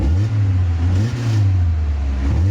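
A Toyota AE86 Corolla Levin coupe engine runs close and loud with a steady throaty hum, rising briefly in a short rev before settling back.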